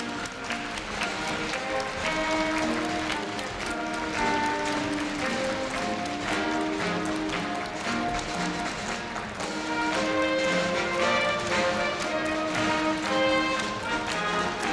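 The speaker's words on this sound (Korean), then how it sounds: "네, 끊임없는 환송의 박수 부탁드립니다." A large audience at the 2015 Korea University freshman entrance ceremony applauds continuously as the president and faculty leave, dense sustained clapping filling the hall from start to finish.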